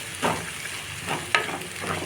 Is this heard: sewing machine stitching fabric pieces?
no